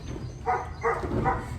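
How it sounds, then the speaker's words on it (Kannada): A neighbour's dog barks three times at a steady, even pace from some distance, the barks moderately loud over faint indoor room noise. "ನಾಯಿ ಬೊಗಳ್ತಾ ಇದೆ"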